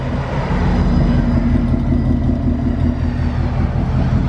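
A Ford Mustang fitted with a Borla exhaust runs steadily at idle, giving a loud, continuous low rumble that holds without change and has no voices over it.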